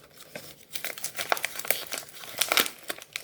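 Wrapping paper on a hardcover book crinkles and rustles as it is unwrapped, with close, continuous crackling bursts of varying loudness and no voices.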